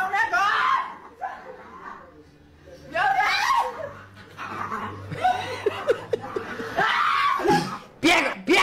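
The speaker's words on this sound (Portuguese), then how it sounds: "Sai, cachorro! O cachorro é doido!" A dog barks and whines nearby in sharp bursts while people shout excitedly and laugh.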